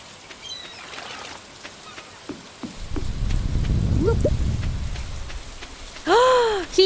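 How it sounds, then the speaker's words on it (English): Steady rain patters in the video game Stardew Valley, and a low, rolling rumble of thunder swells in the middle and then fades, under brief game chimes and a voice talking. "Ooh, that's some big thunder."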